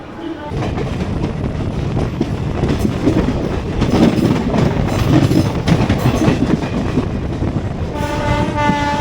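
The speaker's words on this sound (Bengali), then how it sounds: "প্যান্ডেল থেকে আমাদের ট্রেন কাটোয়া লাইন ধরে এগিয়ে যাবে" A train running on the Katwa line in West Bengal makes a steady, loud rumble and wheel clatter, with a tonal horn-like blast near the end.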